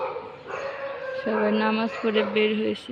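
A dog barks outside in a series of sustained, tonal, howl-like calls that rise and hold, repeating twice over a few seconds while a person speaks nearby.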